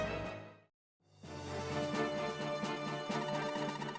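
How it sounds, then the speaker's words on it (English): A crackling, buzzing electrocution effect from the video game Tear Ring Saga, a dense harsh tone that cuts out briefly and then returns in a sustained, rhythmic pulsing burst. "That is the sound of being electrocuted"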